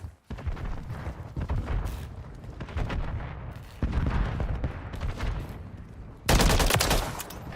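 Gunfire in the video game Call of Duty Modern Warfare 3 rattles in dense, irregular bursts of shots with a sharper, louder volley near the end, while players chatter in German over it.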